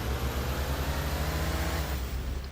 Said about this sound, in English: The truck I'm using is the Kenworth W900.